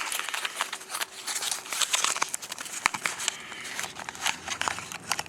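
Packaging for an aftermarket fuel injector for a BMW E36 being torn and crinkled open, close and fairly quiet, with irregular crackling rips and rustles throughout.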